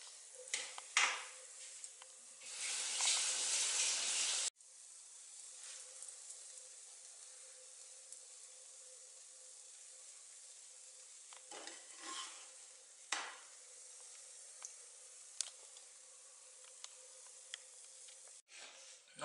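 Green tea pancakes cooking in a pan give a faint, steady sizzle. A louder burst of hiss and scraping comes early as they are flipped, then scattered soft clicks and stirring noises, with no talk.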